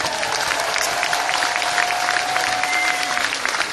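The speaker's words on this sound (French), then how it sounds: "Je voudrais qu'on l'applaudisse, elle est là ce soir" A theatre crowd at Carthage claps steadily and enthusiastically throughout, a dense wash of applause with a faint sustained tone running beneath it.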